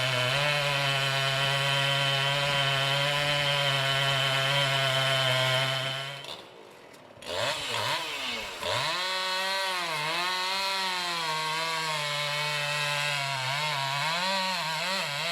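A chainsaw cuts wood while a giant tree is being felled, its loud, steady engine drone holding for about six seconds, briefly dropping away, then revving and varying in pitch as cutting resumes.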